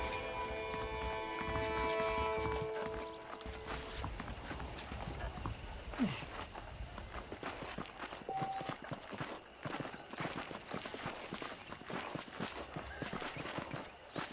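Steady clip-clop of horse hooves at a walking pace in the video game Red Dead Redemption, close and continuous, with a faint whinny and ambient music fading out early on.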